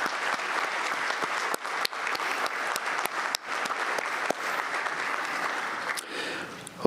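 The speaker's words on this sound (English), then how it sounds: "let's give them a quick round of applause" An audience at an annual membership meeting claps steadily in a sustained round of applause, the dense patter broken by a few sharper individual claps.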